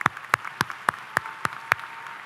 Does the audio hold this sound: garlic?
no